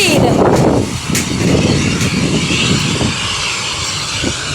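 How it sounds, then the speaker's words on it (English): Airplane engine roaring at full power during plane spotting, a loud broadband rush that swells and then holds steady, with voices talking over it. "We are plane spotting."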